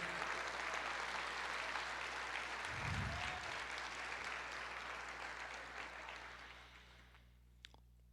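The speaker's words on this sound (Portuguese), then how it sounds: "Você pode aplaudir o Senhor" A church congregation applauds together, a dense, even wash of clapping held at steady strength that fades gradually toward the end, with a brief low thump near the middle.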